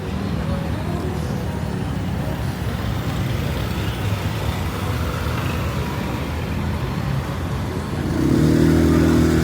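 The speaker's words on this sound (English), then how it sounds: "heavy traffic here." Heavy road traffic rumbles steadily along a busy street in Pattaya, a dense wash of engines near and far, with a louder vehicle passing close toward the end.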